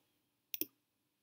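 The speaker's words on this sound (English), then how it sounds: "And click OK." Computer mouse clicks in a quiet room: a quick close pair of sharp clicks, then one more single click a moment later.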